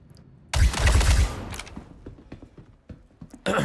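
Rifle fire in the video game Star Citizen: a loud sharp burst of shots at the start, a scatter of smaller clicks and thuds after, then another loud blast at the end.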